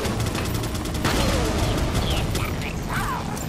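Rapid gunfire from a Resident Evil 4 gameplay fight, with dense overlapping shots and crackling bursts filling the whole stretch alongside game sound effects.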